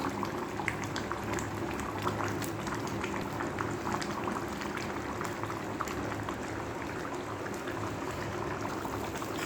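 Tamarind stew with okra, green chillies and ginger-garlic paste boiling steadily in a pot, a continuous bubbling simmer with dense popping, close and even throughout with no talking.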